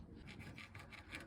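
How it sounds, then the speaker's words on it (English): A small hand file rasps across the cut end of a metal pipe, deburring it during a Fiat 500 clutch slave cylinder repair; quiet, close, repeated strokes in a steady rhythm with no talking. "I might just get a little file on the end and clean the burrs up."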